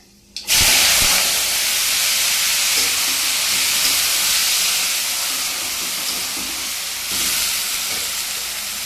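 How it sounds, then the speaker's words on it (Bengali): Chopped banana stem sizzles in hot oil tempered with black cumin, a loud steady frying hiss that bursts in as the pieces hit the pan and continues with faint stirring. "শুধু কালো জিরে দিয়েই থোরটা ভাজি করব"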